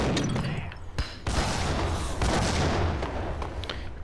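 A grenade blows up in Max Payne on Xbox, heard as a heavy boom with thumps and rumbling debris over dense gunfire and game noise.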